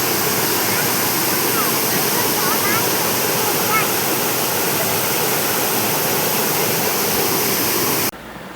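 Steady, loud rushing of water from an indoor waterfall display at a Ram Mandir exhibition in Hyderabad, an unbroken roar that cuts away near the end, with faint chatter mixed in.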